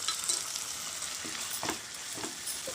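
Spices and curry masala for egg curry sauté in a pan, giving a steady close sizzle with a few short scraping stirs and no talking.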